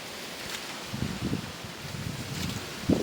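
Strong wind sweeps through mango trees in an orchard, giving a soft, continuous rushing rustle of leaves with faint gusts and low buffeting on the microphone, no voices.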